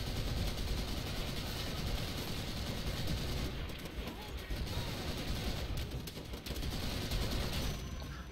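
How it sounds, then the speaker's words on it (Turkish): Rapid, dense gunfire from an anti-aircraft gun rattles continuously in a Call of Duty: World at War battle, a steady barrage of bursts with faint voices underneath. "Alt tarafı uçak savarla ateş ediyorum."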